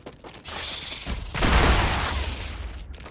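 Gunfire in the video game Star Rupture, a loud sustained burst of shots with a heavy low boom at its peak, fading out after a second or so.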